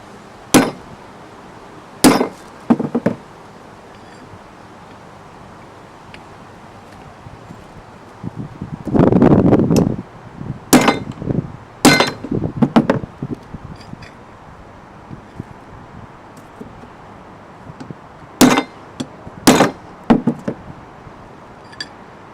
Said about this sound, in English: hit them with this punch, just to give us a nice center hole for drilling